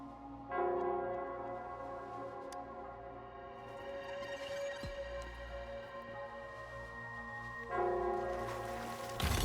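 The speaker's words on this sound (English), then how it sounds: "The bell sounds closer now." A large bell tolls in the video game Wuthering Waves, its deep ringing tone holding steady over a low drone, with fresh strikes near the start and again toward the end.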